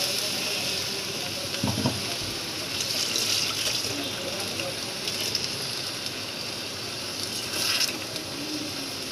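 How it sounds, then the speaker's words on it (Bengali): Boiled lentils (dal) are poured into a hot pan, giving a broad, continuous sizzle and liquid hiss with occasional splattering bursts, fairly close and steady throughout. "এইবার সিদ্ধ করা ডালটা ঢেলে দিলাম"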